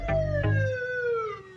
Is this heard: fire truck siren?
yes